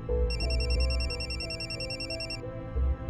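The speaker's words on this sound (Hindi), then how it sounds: "फोन आ गया उसका" A telephone rings in a repeating electronic bell pattern for most of the moment, fairly loud, over a low steady rumble in a domestic scene, then stops near the end.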